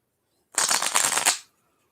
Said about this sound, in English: Get a good shuffle.